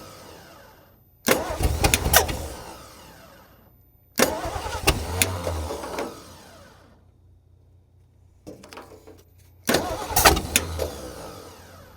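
A Ford engine cranking and trying to fire in three separate bursts, each a rough, sputtering start with sharp popping backfires that dies away before the next attempt.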